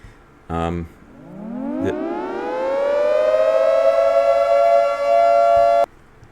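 An electronic siren tone winds up from low to a high sustained wail and holds, cutting off abruptly, after a brief buzzy tone at the start.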